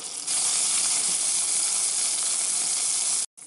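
Carom seeds (ajwain) crackling and sizzling in hot oil in a pan, a steady loud hiss with fine popping that carries on without pause before cutting off abruptly near the end.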